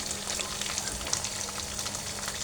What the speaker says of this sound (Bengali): এটা ভালো করে কষাই নেব।